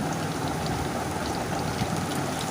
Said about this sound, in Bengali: ফোড়নটা নাড়াচাড়া করে একটু ভেজে নিচ্ছি